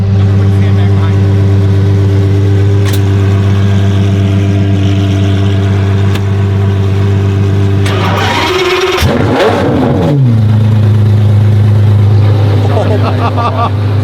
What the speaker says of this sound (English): And it has a naturally aspirated V12.